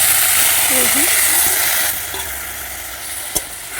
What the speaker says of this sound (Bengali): একটুখানি জল দিয়ে দেবো